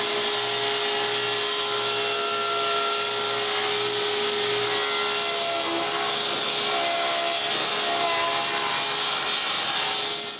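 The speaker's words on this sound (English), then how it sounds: "Now I'm able to rip the other side of the boards." A table saw rips through wooden boards for a bookcase build in a workshop, a loud, steady whine with a constant motor hum that holds for the whole stretch and trails off at the very end.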